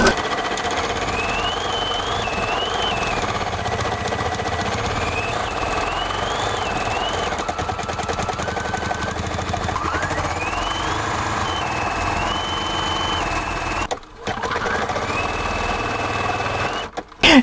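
An embroidery machine stitches a design onto knit fabric with a steady, loud mechanical whir that runs almost without a break, its pitch stepping up and down as the needle speed changes. It drops out briefly near the end.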